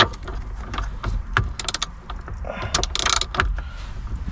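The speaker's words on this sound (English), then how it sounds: "take a 21mm socket and break this nut loose" A 21mm socket on a ratchet works a steering wheel nut loose on a Corvette C6, making short bursts of metallic clicks and clunks at close range.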